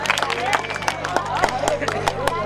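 Applause for performer Anjali Chauhan at a stage show in the Azamgarh–Mau area: a crowd claps in a steady patter of many hands, with murmuring voices and a faint hum running underneath.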